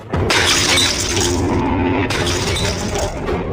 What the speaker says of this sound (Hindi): दोनों फ्रेम जमीन पर गिरे और कांच टूटने की आवाज आई